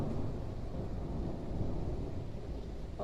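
Thunder rumbling through a storm, a low, sustained roll with faint rain beneath it, distant and unbroken, with nobody speaking.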